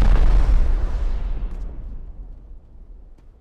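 An incendiary explosive detonates during a raid in Rust, a single heavy boom close by that rumbles and slowly fades over a few seconds.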